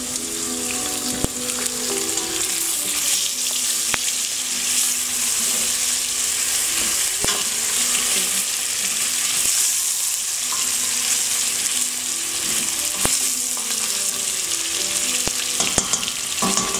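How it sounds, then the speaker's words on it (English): Beef fries with onions in a pan, a steady close sizzle running throughout, with occasional clinks of a utensil stirring. "I should add the beef into the onions"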